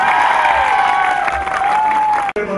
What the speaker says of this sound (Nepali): उहाँले फेरि पनि एक जोरदार ताली उहाँलाई स्वागत